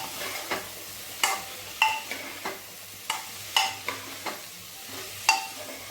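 A spoon scrapes and taps a pan while potatoes are mixed into brinjal curry, a dozen sharp clinks in an uneven rhythm over a faint sizzle, close and alone.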